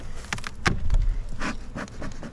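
Honey bees buzz around an opened hive during an early April inspection, with smoke being puffed in; the buzzing swells and fades close by, mixed with brief scraping knocks and a low thump.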